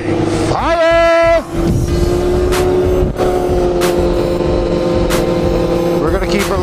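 Yamaha FZ-09 / MT-09 motorcycle on a sunny day ride, its engine droning steadily close by, with a sharp rev climbing and falling early, then holding a steady pitch under wind and a few brief clicks.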